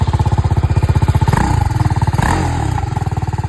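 A red new-model TVS Apache RR 310 motorcycle idles close by with a steady, fast throbbing beat, briefly revving twice before settling back into its rhythmic idle.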